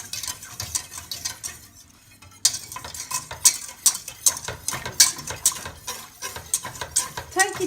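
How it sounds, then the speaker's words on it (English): A spoon stirs a roux in a pot for vegan cheese slices, giving steady scraping and clinking strokes at close range, with light sizzling underneath and a brief quiet pause partway through. "Making a roux is easy."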